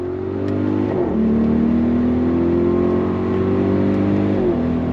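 An Audi RSQ8 performance SUV accelerates hard on throttle, its engine note rising steadily through a gear change, loud and close with no talking.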